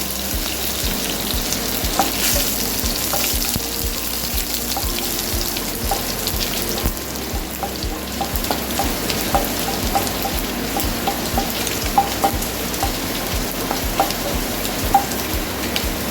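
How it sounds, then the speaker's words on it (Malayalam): Steady crackling sizzle of mustard seeds popping in hot oil with urad dal, dried red chilies and curry leaves for a kosumalli tempering, with sharp little pops scattered throughout and no talking. "കടുകൊക്കെ പൊട്ടിക്കഴിഞ്ഞിട്ടുണ്ട്"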